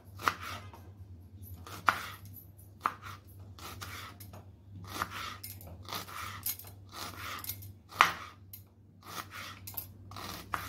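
An onion being finely chopped with a knife on a board, sharp irregular chops with short pauses, close and clear with a faint steady hum behind.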